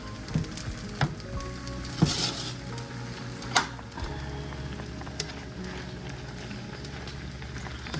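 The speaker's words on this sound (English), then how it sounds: "we're gonna take our snap peas and dump those in and stir those around" Snap peas sizzling in a frying pan for a homestead dinner, a soft continuous hiss broken by a few distinct clanks and scrapes of stirring, near and moderately quiet.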